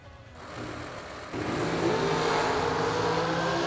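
Dragster engines roar at a drag racing event, a loud sustained blare that steps up sharply in intensity partway through and holds at full volume.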